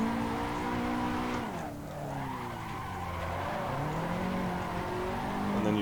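Car drifting in Assetto Corsa on a street setup, a loud continuous tire squeal with a sliding engine note that dips and rises in pitch as the angle changes, with no talking.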